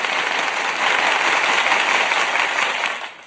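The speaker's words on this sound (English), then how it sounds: "let's get a round of applause in there." Applause sound effect of a crowd clapping steadily for about three seconds, dense and fairly loud, then fading out at the end.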